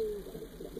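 A red pigeon at a village home coos once, a soft low throaty call close by, short and alone with faint background noise.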